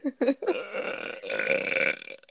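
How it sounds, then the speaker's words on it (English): A person lets out a drawn-out burp that starts with a few short, quiet gulps and then swells into a loud, rumbling belch lasting about two seconds before tapering off. "Sorry, I almost burped."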